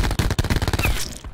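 Rapid automatic gunfire in Black Ops 4, a fast steady stream of close, loud shots that stops abruptly, heard alone without talk.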